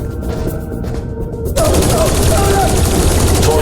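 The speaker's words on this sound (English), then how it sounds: "Shoot to kill." Sustained gunfire in the adventure game Dreamfall Chapters: a dense, loud burst of rapid shots that starts suddenly halfway through and continues steadily to the end, following a quieter tense stretch.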